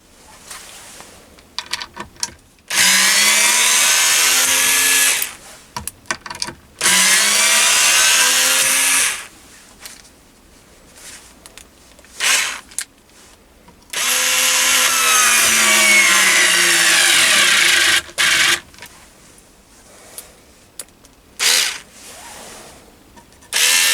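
A small MOHOO 3.6V USB cordless electric screwdriver drives a screw into wood at a low torque setting. Two sustained whirring runs of a few seconds each are broken by quieter clicks and handling noises, close and loud with no voices.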